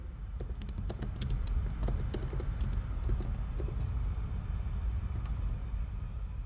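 Keys clatter in a quick, uneven run of taps on a computer keyboard as someone types a query to a service bot, steady throughout over a low background rumble.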